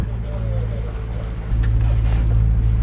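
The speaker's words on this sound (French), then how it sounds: "avec ce bateau de 8 mètres, je sais pas ce que c'est, mais il marche bien, en tout cas au moteur" An 8-metre boat running under motor, a loud steady low engine drone with wind and water noise that grows stronger partway through, no talk over it.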